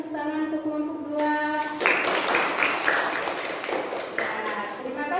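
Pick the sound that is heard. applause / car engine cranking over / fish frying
applause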